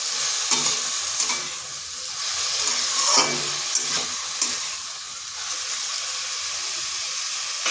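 Potato and ridge gourd pieces fry in a pan for jhinge posto, a continuous moist sizzle with recurring scrapes and clacks of a spatula stirring the vegetables, close and fairly loud.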